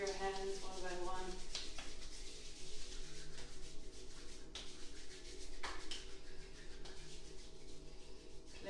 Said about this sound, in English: rub them against each other for a moment, creating a bit of heat